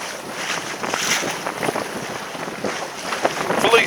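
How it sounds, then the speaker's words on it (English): Wind from an incoming squall gusts across a small sailboat at sea, a broad rushing roar with buffeting against the microphone and faint water sounds beneath, fairly loud and constant. "look at that squall coming in"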